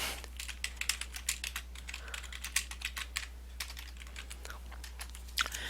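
Rapid typing on a computer keyboard, a close, busy run of light clicking keystrokes in uneven bursts with a few louder taps and short pauses, no talk.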